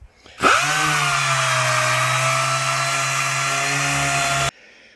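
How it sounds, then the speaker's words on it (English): A power sander sanding a countertop starts up with a sharp whine and runs steadily at a loud, constant pitch for several seconds before cutting off abruptly. "I finished sanding this down."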